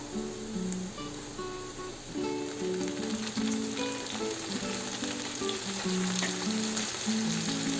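Sliced ingredients and mint fry for an Andhra-style country chicken biryani, making a continuous bubbling sizzle with soft crackles throughout, fairly close and even.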